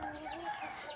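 A brief burst of backyard chicken sounds, a short clucking call heard from a moderate distance over a faint background, with no talking.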